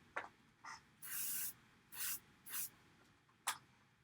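Airbrush spraying paint onto a Be'lakor miniature in light, separate passes: about six short hissing bursts of varied length, close and clear against a quiet room.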